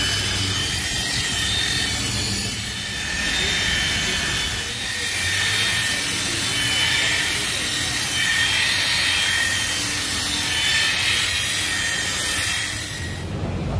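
A car headlight lens being buffed with polish by a machine, giving a steady whirring, rubbing drone that runs continuously and fairly loud throughout, with no talking.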